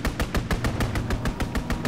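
Machine gun fire from an aircraft strafing run in Call of Duty WWII: a steady, rapid burst of evenly spaced loud shots repeating without pause.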